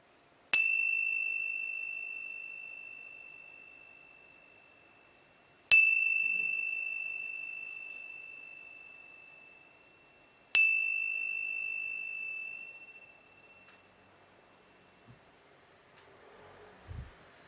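A meditation bell is struck three times at even intervals several seconds apart, each clear ring sustaining and fading slowly into quiet, followed by faint rustling.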